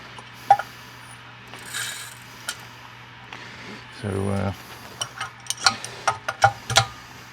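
Small metal primers poured into a Dillon RF 100 auto primer feeder, a brief rattling, clattering rush of parts in the middle of the clip, with scattered ticks and clicks of the feeder mechanism around it.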